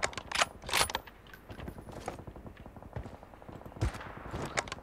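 Sharp gunshots from a long-range sniper or marksman rifle in the mobile game BGMI, several distinct cracks spaced over a few seconds with mechanical bolt and reload clicks between, no talking.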